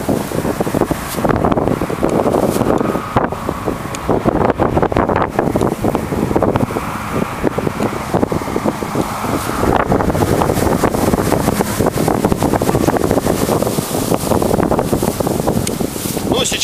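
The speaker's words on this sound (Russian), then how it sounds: "сейчас ветер поменялся" Strong wind gusting across open water during fishing, a steady broadband roar buffeting the microphone for the whole stretch with no break.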